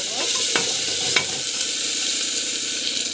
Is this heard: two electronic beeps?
no